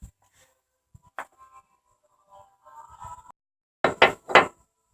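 Knocking a part into the rear end of a truck, scattered light taps building to three loud, sharp metallic knocks near the end.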